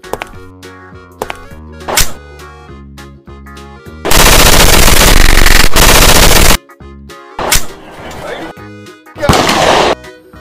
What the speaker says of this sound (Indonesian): Ada mainan tembak-tembakan M16.